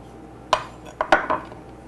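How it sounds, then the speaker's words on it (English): A knife traces around the rim of a glass baking dish in a home kitchen, producing a few sharp, close clinks and scrapes separated by short pauses, with no one talking. "I'm going to cut around this dish about 1 inch all the way around"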